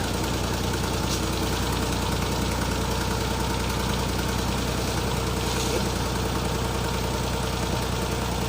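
A Perodua Kelisa engine runs right after starting on a car that struggles to start when hot: a steady, unbroken mechanical hum and rumble at close range, with no talking.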